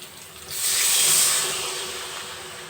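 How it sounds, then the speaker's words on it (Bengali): A short, rising burst of steamy hiss as a small bowl of water meets oil-rich fried masala in a hot pan for vegetarian chilli paneer, swelling quickly and then fading to a softer simmer within a few seconds. "এবার ছোটো বাটির এক বাটি জল দিয়ে দেবো"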